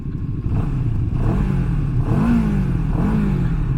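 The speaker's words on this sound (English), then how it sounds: "let's take a listen at the engine and the exhaust" A 2023 Moto Morini Seiemmezzo STR motorcycle engine idles with a throaty exhaust and revs up in a few rising surges, loud and close, with no talking.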